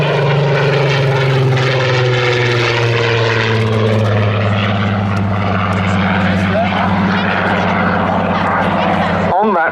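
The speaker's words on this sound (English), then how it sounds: "One more pass from the Spitfire." A Spitfire propeller fighter passes loudly at an airshow, its engine drone steady and close throughout with a slowly falling pitch as it goes by, while an announcer talks over it.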